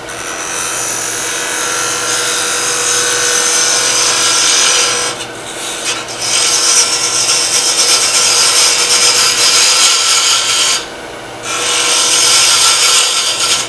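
Wood lathe turning a miniature while the exterior is shaped, a loud continuous whirring rasp of tool against spinning wood, broken by two brief pauses, with no talk.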